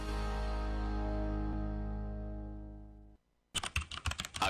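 Quick clicking bursts of computer keyboard typing close up, used as a sound effect in a radio station spot. A long, fading tone and a brief gap come before the short run of keystrokes.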